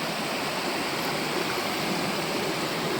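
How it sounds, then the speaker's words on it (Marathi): A babbling village river during the monsoon rushes steadily, a continuous broadband gurgle of flowing water that fills the whole clip without pause or voices. "ही आमची वाहणारी नदी खळखळ खळखळसात"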